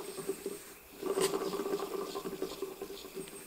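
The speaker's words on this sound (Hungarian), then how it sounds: "Kolompol benne a csapágy." The dry, rusty alternator bearing on a Skoda Octavia, its grease washed out, gives a faint irregular rattling and rasping patter in short bursts, heard up close with no talking.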